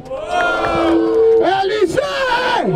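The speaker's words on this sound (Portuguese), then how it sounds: "Barulho para as rimas do Peixe" A rap battle crowd in Barueri, São Paulo roars and yells together, a loud, sustained wall of whoops and shouts with rising and falling voices.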